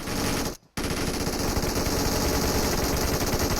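Rapid automatic gunfire in PUBG Mobile, loud and nearly continuous bursts with one brief gap early on, no voices over it.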